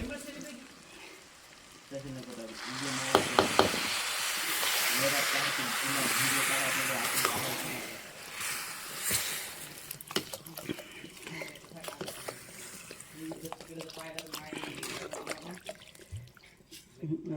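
Water hits a hot pan of khichdi with a loud hissing, steaming sizzle that swells and then fades, while a voice talks over it.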